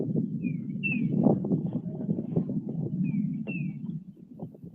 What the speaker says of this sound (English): listen to that pretty bird out there